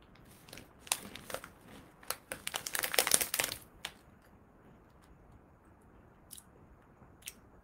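Someone chews popped cheddar cheese crisps close up, with crunchy bites and crinkly chewing clustered in the middle, then quiet, sparse chewing afterward.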